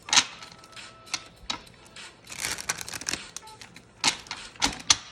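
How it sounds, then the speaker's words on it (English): Cards are shuffled in several quick riffling bursts with brief pauses between them, crisp and close by. "couple quick shuffles, and then we'll jump into it"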